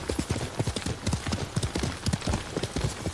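Horse hooves gallop in a fast, steady clip-clop rhythm in a video game, close and alone with no talk.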